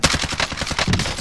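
A sniper rifle shot in the Warzone shooter game (Modern Warfare, AMAX loadout) cracks sharply at the start, followed by a clattering burst of further gunfire and rumbling game noise through the rest of the moment.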